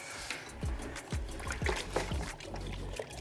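A wash mitt is sloshed and rinsed in a bucket of water during a rinseless car wash, with soft splashes, trickles and gurgling dips recurring close by at low volume.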